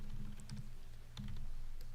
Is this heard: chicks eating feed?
no